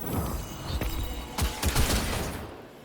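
Gunfire in the video game Presage, a few sharp shots in quick succession over a busy mechanical game background, close and fairly loud, with no speech.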